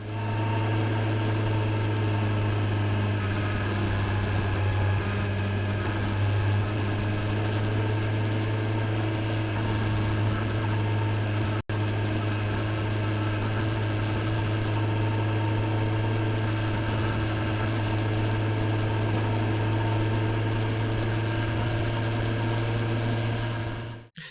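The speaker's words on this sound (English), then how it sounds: "I'm only ever going to just record engine noise." A 2021 Kawasaki Ninja 1000SX inline-four motorcycle engine idles steadily and loudly up close, its constant low drone and hum holding for the whole stretch with no revving and no voices.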